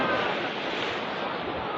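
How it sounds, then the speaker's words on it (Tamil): Sea waves surge and break on Marina Beach, a dense, continuous roar of surf with wind rush close to the microphone and no distinct voices. "துள்ளி வரும் அலைகளுக்கு மத்தியில்"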